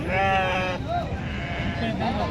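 A goat bleats loudly with a quavering cry at the Gudur livestock market, followed by softer bleats and a voice talking nearby amid background bustle.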